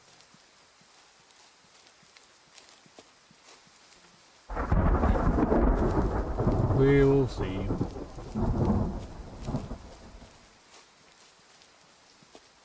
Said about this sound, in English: Get out of the storm.